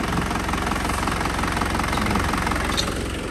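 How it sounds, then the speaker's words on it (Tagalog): An Isuzu diesel engine idles steadily nearby, an even low rumble with a soft regular throb and no rattling or knocking. "Yan ang tunog ng Isuzu, walang lagitik."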